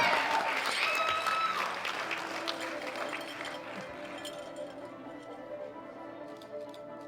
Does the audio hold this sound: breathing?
no